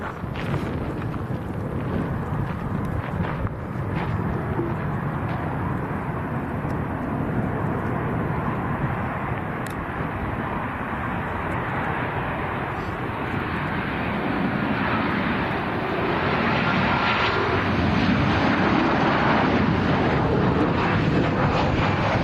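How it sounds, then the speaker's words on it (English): A Ryanair Boeing 737 Max from Dublin lands at Lanzarote airport in a strong crosswind, a broad, steady jet roar with wind buffeting that swells louder toward the end, heard from a distance with no talk. "Ryanair Max from Dublin."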